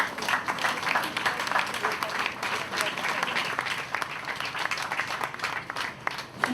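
A crowd at an outdoor union press conference in front of a hospital claps steadily for several seconds, a dense patter of many hands with voices talking underneath.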